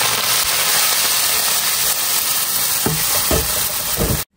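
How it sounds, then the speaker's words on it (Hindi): Onion and cumin tempering poured onto kadhi gives a loud, steady frying sizzle close by, with a few sharper splashes near the end before it cuts off abruptly. "फिर मैंने ये सारे तड़के को ये देखें कड़ी के ऊपर जो है ना वो डाल रही हूँ"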